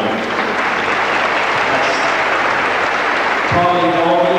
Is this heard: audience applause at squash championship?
yes